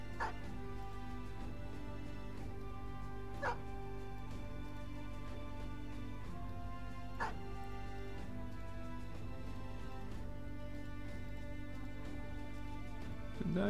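A dog in the medieval mercenary game Battle Brothers barks a few times, short sharp yaps spaced several seconds apart over a steady droning music bed.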